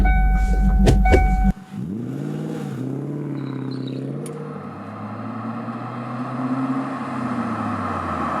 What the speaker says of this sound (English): They didn't bother with mufflers. The sound here is what a fast car should sound like.